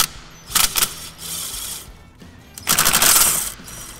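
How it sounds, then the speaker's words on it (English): A ratchet clicks in short bursts while 10mm and 12mm bolts are loosened on a Honda Civic during transmission work, with two rapid clattering runs separated by quieter handling noise. "Now we're going to remove this 10mm bolt here, this 12mm bolt here"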